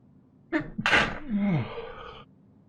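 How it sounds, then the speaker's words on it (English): A single close human sneeze, with a quick sharp intake of breath and then a forceful burst that trails off, heard alone in a quiet room. "I feel a sneeze coming on here."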